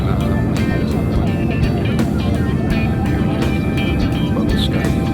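Steady, loud airplane cabin noise during a flight from Padang to Jakarta, a dense engine roar that holds without pause for several seconds.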